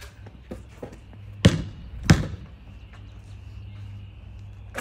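Basketball shot on an outdoor hoop: two sharp bounces or rim-and-backboard hits about half a second apart, loud and close, with faint background hum and no talking.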